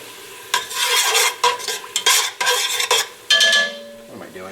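Garlic frying in oil for an Italian tomato sauce, stirred with a spoon: repeated scraping strokes over a steady sizzle, close and loud, with a brief spoken remark.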